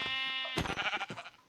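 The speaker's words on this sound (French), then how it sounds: "Ah, il y a des moutons." Sheep in the video game Minecraft give a short synthetic bleat, a steady tone that breaks into a rough, wavering cry, heard alone and fairly close.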